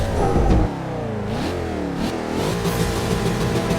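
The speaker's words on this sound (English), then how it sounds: "hard on the accelerator now, up to 50 miles an hour, second gear, going to third. Putting all the power from that V8 engine down" A 5-litre V8 in a Jaguar XFR-S revs hard and pulls through the gears, the engine note climbing, dipping at shifts, then rising again, loud and close throughout with no talk.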